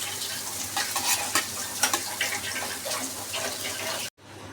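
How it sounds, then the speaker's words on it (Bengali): Shrimp frying in a pan for balachao, with onions browning alongside: steady close sizzling and crackling with stirring scrapes and brief clatters, ending in a sudden cut. "এগুলো এখন হচ্ছে লালচে কালার করে ভেজে নেব।"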